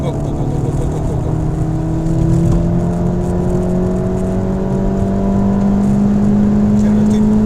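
A Honda Civic Type R FK8 accelerates hard around the Red Bull Ring circuit, its engine note climbing steadily through the revs, loud and close from inside the cabin, with a voice calling out over it.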